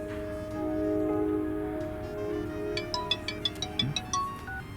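A phone rings with a video call, giving a soft electronic tone followed by a run of bright, evenly spaced chiming beeps, moderately quiet and with no voices over it.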